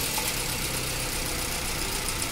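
A Maruti Suzuki SX4 petrol car with an overheating and coolant-leak problem idles steadily just after being started, a constant close engine hum with no voices.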